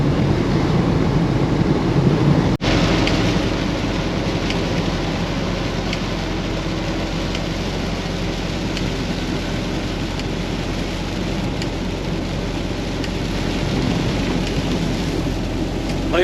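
Steady heavy rain drums on a truck during a drive, with a dense hiss that holds through the whole stretch and one sharp crack of thunder early on, all fairly loud and continuous.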